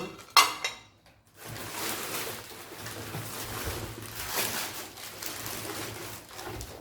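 Ceramic dinner plates from a boxed gift set are handled and set down, giving a sharp clink at the start, then a steady rustle of unpacking with faint knocks.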